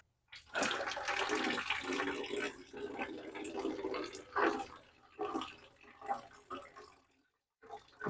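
Water pours and splashes from a cut copper pipe joint into a bucket, a loud steady gush that breaks into irregular spurts and drips before fading near the end.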